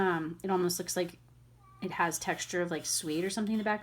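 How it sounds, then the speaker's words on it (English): A pet cat meows in the background of a room during a stamping-supplies unboxing, heard as short cries mixed in with a person talking steadily near the mic. "Sorry if you can hear my cat meowing in the background, by the way."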